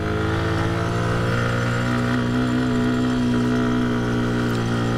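A motorcycle climbs a steep mountain road toward Keokradong held in one gear, its engine a steady, close, continuous droning hum that never lets up.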